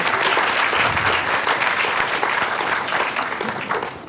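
A seated audience gives a warm round of applause at a formal foundation event, dense steady clapping that holds for several seconds and then begins to thin out.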